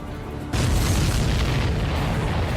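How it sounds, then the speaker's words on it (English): A sudden loud boom from an explosion in the combat flight game Ace Combat 7 breaks in after a brief lull, then rolls on as a dense, sustained rumble for the rest of the moment. "Did you see that explosion?"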